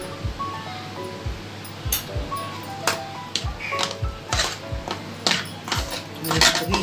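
Spoon mixing flour into gulab jamun dough in a bowl, with repeated close clinks and scrapes of metal against the dish in an uneven stirring rhythm.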